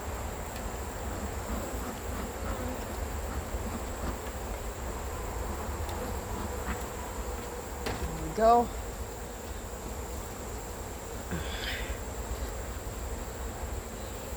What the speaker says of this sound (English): You can hear them. They're buzzing.